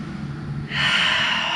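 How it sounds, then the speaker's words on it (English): One deep breath is taken during a yoga resting pose: a low exhale, then a sharp, airy inhale that carries to the end, close and clear with no talk. "We're gonna take 5 more deep breaths here"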